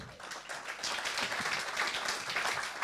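Audience applause after a speaker's talk at a French-language Christian gathering, a dense steady wash of clapping from many hands lasting throughout, moderately loud with no voices over it.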